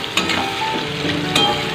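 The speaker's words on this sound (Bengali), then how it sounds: "আমার পেঁয়াজটা লাল লাল করে ভাজা হয়ে গেছে" Onions sizzle in a pan until browned, with a constant crackling hiss, broken by two brief sharper bursts, probably from stirring.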